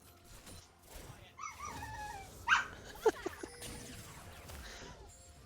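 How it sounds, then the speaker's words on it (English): A sad pet dog named Kale gives a few soft, muffled whimpers and quiet yips, close by and faint, with a couple of short sharper peaks amid background room noise. "I heard a quiet bark"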